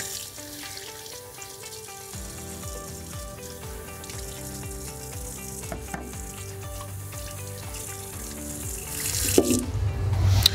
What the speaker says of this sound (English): you can rinse those out with the same solution of soap and water